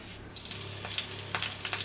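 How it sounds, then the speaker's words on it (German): Sausages (Würstchen) fry in a pan for currywurst, giving a soft, continuous sizzle with scattered crackles and pops, fairly close and alone without speech. "im Moment kann man den Würstchen bloß beim Brutzeln zugucken"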